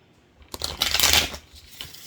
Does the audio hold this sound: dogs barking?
no